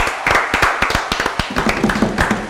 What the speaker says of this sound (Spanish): ¿Por qué aplaudían?